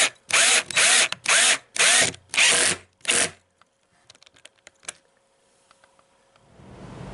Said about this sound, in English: my drill ran out of power